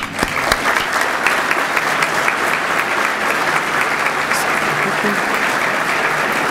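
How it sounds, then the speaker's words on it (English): Audience at a 2011 economic forecast event applauds elected officials, a steady, loud sustained clapping from a large crowd filling the room without pause. "Would our elected officials joining us today please stand and be acknowledged with our applause?"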